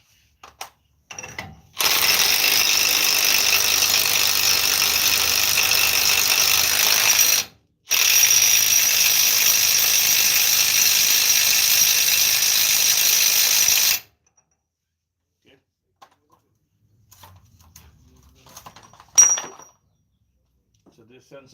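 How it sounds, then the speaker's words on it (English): A ratchet tightens a bolt on the upper control arm of a 2014 Dodge Ram 1500 truck, a loud steady close-up rattle running in two long bursts with a short break, then falling to faint scattered clicks and a brief clink. "Now we're gonna tighten the bolt."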